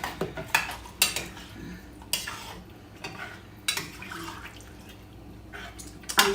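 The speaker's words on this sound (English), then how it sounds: "I'm just going to add my potatoes with the water in it" Potatoes and water are tipped into a pot for chicken soup, with clattering, knocking and splashing in irregular bursts close by in a quiet kitchen.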